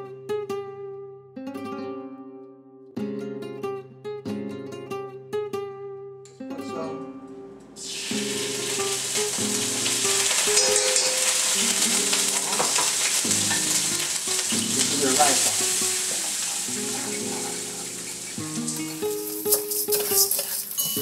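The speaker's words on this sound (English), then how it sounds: "let's begin by sauteing the rice" Rice sautéing in a pan for arroz con calamares, a loud, dense sizzle that bursts in partway through and holds steady with stirring scrapes, preceded by music.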